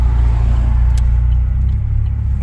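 A Chevy Cruze fitted with a downpipe and Magnaflow exhaust idles with a loud, deep steady rumble up close, holding a constant low drone with no sharp rev spikes.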